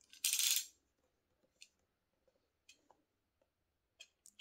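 A utility knife cuts the seal on the box of a Samsung Galaxy Watch3 45mm LTE. A short, bright scraping slice comes first, then a scatter of faint clicks and taps from the packaging in a quiet room.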